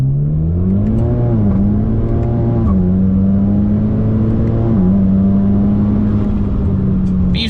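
A big-turbo 2.0-liter four-cylinder Chevy Camaro making about 450 hp drones loudly and close, its engine note holding steady with several quick rises and dips in pitch as the revs shift, heard alone without speech.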